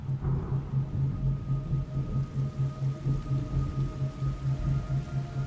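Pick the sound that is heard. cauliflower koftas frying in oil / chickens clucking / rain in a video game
rain in a video game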